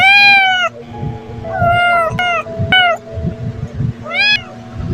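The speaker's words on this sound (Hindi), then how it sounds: "ये मेरा बिल्ली का बच्चा आ गया, लैपटॉप के ऊपर चढ़ गया है" A kitten meows several times in high, drawn-out cries, close and clear, with faint background noise between the calls.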